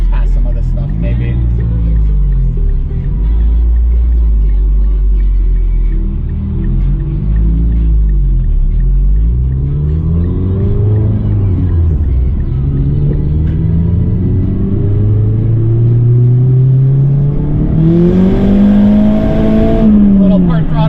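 Tuned Mazdaspeed 3 engine pulling at part throttle through second and third gear, its droning pitch sweeping up repeatedly with each gear and louder toward the end, heard from inside the car under a steady road rumble.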